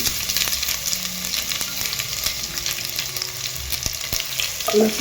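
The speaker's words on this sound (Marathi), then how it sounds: "चांगला कलर चेंज होईपर्यंत आपण तळून घेऊया चांगला." Mustard seeds, cumin and garlic frying in hot oil in a kadhai for a Bhogi mixed vegetable dish, a continuous close sizzle and crackle with occasional stirring clicks, no talk.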